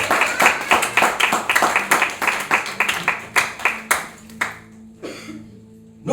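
A church congregation applauding during worship, with rhythmic, ringing group clapping that gradually thins out and stops, leaving a few scattered claps in a reverberant room.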